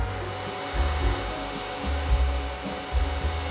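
A computer server runs loudly with its cooling fans, a steady broadband whir with a low hum that swells slightly at moments, close to the microphone and alone.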